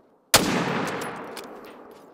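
A single loud .30-06 rifle shot in The Hunter: Call of the Wild, a sharp close crack followed by a long fading echo rolling across open terrain.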